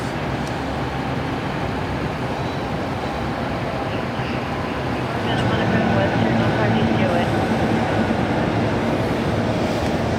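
Train passing nearby, a continuous rumbling rail roar that swells louder partway through, with people talking over it.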